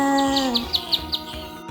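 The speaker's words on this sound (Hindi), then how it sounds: "चुन चुन करती आई चिड़िया दाल का दाना लाई" In a Hindi children's rhyme, a bird chirps in a quick series of about six bright, evenly spaced tweets over a held musical tone and rhythmic backing.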